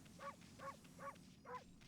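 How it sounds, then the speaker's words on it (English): Cartoon wolf barks from the video game Okami, four evenly spaced bark-like calls about every 0.4 seconds over a steady game background tone. "I can still bark. The barking and the rat so far have been my favorite part."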